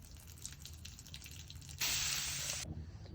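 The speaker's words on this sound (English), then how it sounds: "I've run this with the compressor until we're out of water coming out of the spout" Water drips and trickles from a jerry can spout driven by a compressor, then a sudden loud hissing spray bursts out for about a second before cutting off abruptly, all close-up with no talk.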